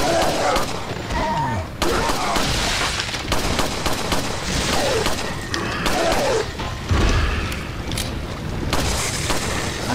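Gunfire in the video game Resident Evil 4, with repeated sharp shots and thuds at an irregular pace over game ambience and effects.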